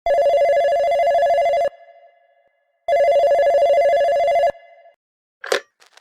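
A telephone at a Delhi police station rings loudly twice in long, even electronic bursts separated by a pause, followed by a brief clatter as it is picked up.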